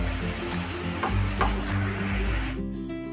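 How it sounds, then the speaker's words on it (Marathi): Ground coriander masala paste fries in oil for a Maharashtrian rassa curry, a dense close sizzle with a few spatula scrapes, ending abruptly as the hiss cuts off; no talking. "एक दोन मिनटं हे वाटण फ्राय करायचं तेलामध्ये"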